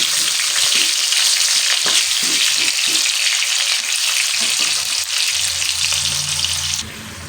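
Potato chunks sizzle steadily as they fry with a little salt for a mutton curry, a broad continuous hiss with stirring knocks scattered through it, ending in a quieter low rumble.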